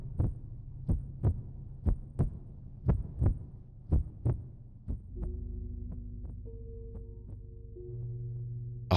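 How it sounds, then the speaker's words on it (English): A heartbeat sound effect: deep, paired thumps repeat in a steady rhythm, loud and close, then give way to a low sustained hum and throbbing drone. "A heartbeat."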